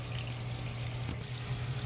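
Coolant drains steadily from a 2013-2016 Dodge Dart into a pan, a continuous close-up watery pour with a low hum underneath.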